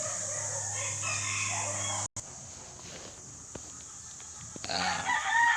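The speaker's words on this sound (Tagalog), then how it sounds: "mga manok, maingay." Roosters crow and chickens cluck in a noisy yard, with a dog barking now and then; the sounds come from a moderate distance and continue steadily.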